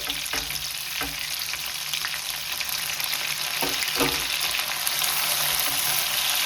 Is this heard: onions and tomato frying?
yes